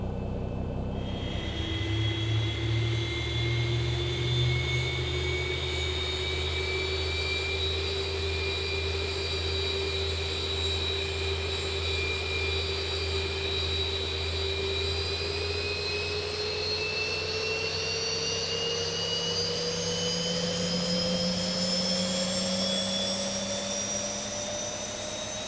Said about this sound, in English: So we'll go ahead and we'll start engine number 2.